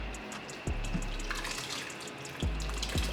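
Birria cooking liquid is poured over meat in a slow-cooker pot, making a steady watery splash and trickle with a few soft clunks near the start and end.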